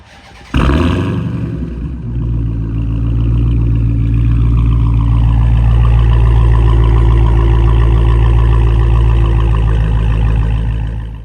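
A 2022 Dodge Challenger Hellcat with a mid muffler delete fires up warm: a sharp starter catch and loud bark, then a deep, steady, rumbling idle that holds up close with no talking.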